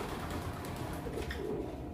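Imported racing pigeon cooing softly, bred in Kuwait, heard in a loft among other birds; low murmuring coos continue steadily over a busy background of flock sounds for about two seconds.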